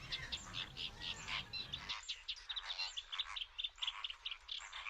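Audouin's gulls call repeatedly in quick, harsh bursts at their breeding colony in the Ebro Delta, a busy chorus of cries over a quiet background.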